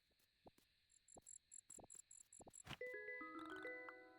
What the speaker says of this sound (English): Another black cricket.